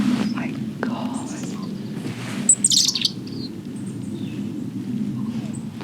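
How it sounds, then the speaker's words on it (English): A robin sings in a garden in autumn, a bright burst of high chirps and trills standing out over a steady low background rumble, with soft whispered voices nearby. "it's just a simple robin that we get in our garden"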